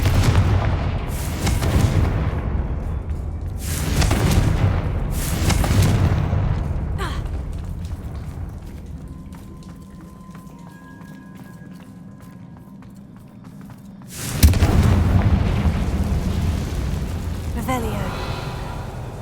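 Confringo blasting spell explosions in Hogwarts Legacy, several heavy booming blasts in the first seconds, a quiet lull, then another loud explosion with rumbling aftermath, with a voice speaking at points.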